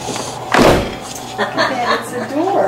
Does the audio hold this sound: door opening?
yes